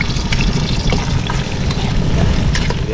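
Garlic fries in cooking oil with a loud, close, continuous sizzle and crackle and occasional stirring sounds.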